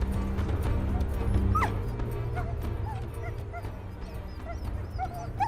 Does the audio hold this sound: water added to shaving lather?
no